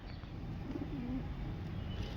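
Fancy pigeons kept in a home loft give a single soft coo midway, heard over low background rumble with no talk.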